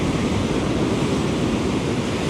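Steady roar of ocean surf washing onto a beach where anglers fish for surf perch, a continuous broadband wash with wind noise on the microphone and no distinct individual breakers.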